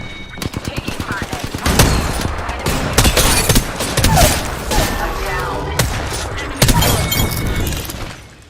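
Rapid video game gunfire in a sci-fi shooter, bursts of automatic fire and single shots cracking over one another in a dense, loud barrage with a few booms, continuing almost throughout.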